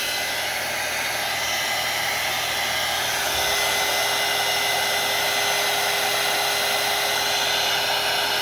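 A handheld craft heat tool blows hot air over a craft project, giving a steady, loud, continuous whooshing roar with a faint whine that holds unchanged for the whole stretch.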